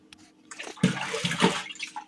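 Tap water running through a pipe into the tub of a twin tub washing machine, a steady splashing fill that swells over about two seconds, close and alone.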